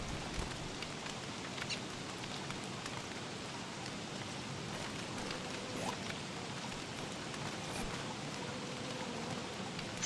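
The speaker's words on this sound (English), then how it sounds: "Stupid rain!" Rain in the survival game Don't Starve falls as a steady, soft patter of drops, continuous and fairly faint throughout, with no voices.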